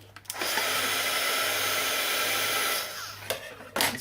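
A hair dryer drying a page in an art journal: a steady, close whir that starts after a brief pause, runs for about two and a half seconds, then cuts off, followed by a few small handling sounds.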